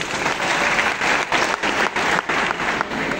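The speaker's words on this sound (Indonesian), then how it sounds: "tepuk tangan boleh." Sustained audience applause at a student forum and open-stage gathering, a dense, steady wash of many hands clapping with slight surges, no voices over it.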